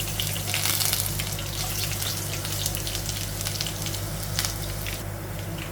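Steady, fairly quiet crackling sizzle of chopped shallots frying in oil with mustard seeds, continuous with small pops.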